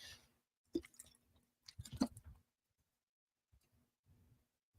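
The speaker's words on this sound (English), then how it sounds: "Sorry, I'm just drinking some water." A person drinks water, with a few soft, close gulping and swallowing sounds in short bursts separated by near silence.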